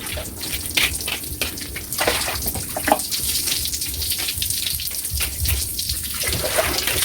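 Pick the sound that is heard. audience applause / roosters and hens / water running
water running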